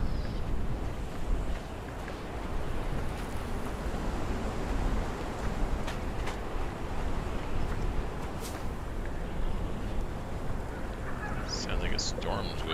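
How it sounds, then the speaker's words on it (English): Storm wind and crashing waves in a survival video game roar continuously as a dense, loud wash throughout, with brief higher gusts and effects breaking through near the end. "Sounds like a storm's whipping up."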